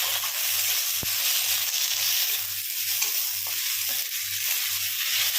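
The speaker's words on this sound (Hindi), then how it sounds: "एक से 2 मिनट तक टमाटर के साथ भूनेंगे।" Tomatoes sizzle steadily in a hot pan for dhaba-style dum aloo, a dense continuous fry with a soft, regular low rumble pulsing underneath and no talking.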